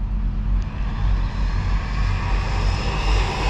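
Team Corally Syncro4 RC car with a 17-tooth pinion on 4S power held at full throttle, producing a loud, steady high-pitched motor whine and drone that holds constant throughout without a break.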